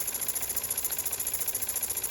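A small steam engine drives a belt-powered generator that charges a phone, giving a fast, even mechanical chugging with a regular pulsing rhythm, close and steady, with no talking.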